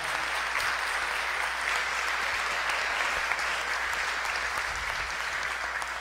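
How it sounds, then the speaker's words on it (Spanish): A church congregation applauds during a Sunday Mass, a dense and steady wash of many hands clapping that fills the space for the whole stretch, with no voices rising above it. "Otro aplauso, venga."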